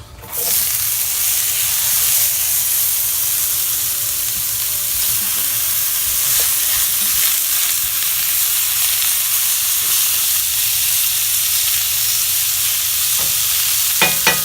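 Food sizzles and fries loudly and steadily in a restored cast iron skillet, with occasional stirring scrapes.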